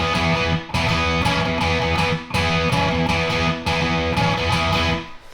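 Overdriven electric guitar grinds out a shuffling power-chord riff, loud and steady with brief gaps between phrases, no voices.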